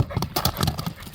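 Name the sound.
horse hooves clip-clopping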